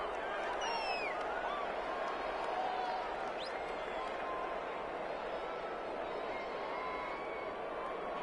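A stadium crowd in a football video game roars as a steady, dense wash of cheering and noise that runs unbroken throughout.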